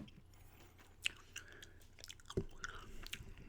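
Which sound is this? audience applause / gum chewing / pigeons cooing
gum chewing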